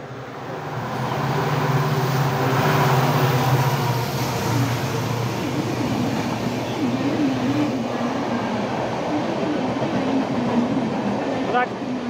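A fast train rushing past at a rail crossing or platform, a sustained loud rumble and rolling roar filling the whole stretch, with a faint voice briefly underneath.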